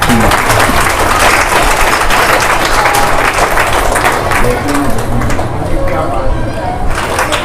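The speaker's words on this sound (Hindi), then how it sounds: "जोरदार ताली बजा दो।" A devotional satsang crowd applauds in a long, loud wash of clapping that thins slightly toward the end, with a voice speaking over it.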